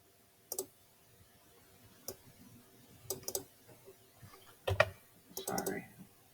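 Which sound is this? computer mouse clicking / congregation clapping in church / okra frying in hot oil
computer mouse clicking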